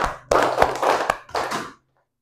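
Schoolchildren in an elementary classroom clap their hands together in three or four short rhythmic bursts of crisp, close, overlapping claps, then stop into silence.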